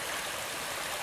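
Stony Creek, a boulder-strewn mountain stream along the Appalachian Trail, rushes and splashes in a steady, dense wash of water noise that stays loud and even throughout, with no voices.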